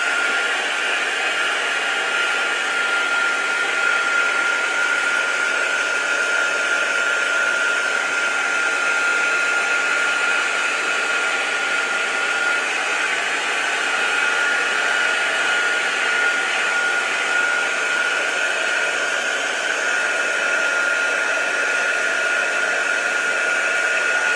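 A hair dryer blows steadily at close range for over twenty seconds, drying craft work on an album, a loud even whooshing hum without any talk.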